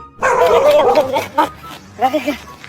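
A dog gives a few sharp yips and barks up close in short bursts, mixed with voices.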